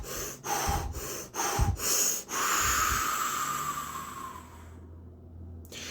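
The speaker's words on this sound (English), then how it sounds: "going into a round of like Wim Hof style breath work, circular breathing" Rapid, forceful Wim Hof style circular breathing: a run of quick, sharp inhales and exhales, then a long, drawn-out exhale that fades into silence, close to the microphone.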